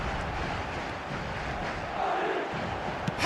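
A stadium crowd in a football video game roars steadily after a goal, a broad sustained wash of cheering at a distance.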